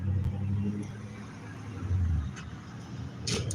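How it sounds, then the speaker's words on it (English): On a quiet night street, a passing car's low engine drone rises and eases away over a few seconds, moderately faint, with small scattered clicks and a brief hiss near the end. "I got a car coming by."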